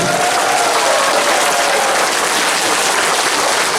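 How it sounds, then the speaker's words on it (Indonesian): A large crowd at a regional officials' forum in South Papua breaks into loud, sustained applause. Dense clapping fills the whole stretch with no break. "Tepuk tangan yang meriah sekali lagi"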